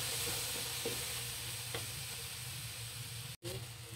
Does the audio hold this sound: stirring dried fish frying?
yes